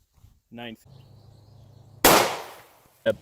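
A single loud gunshot from a .40 S&W pistol firing Remington UMC 180-grain jacketed hollow point rounds, a sharp close crack with a decaying tail, followed by a short clack; a brief voice sounds just before.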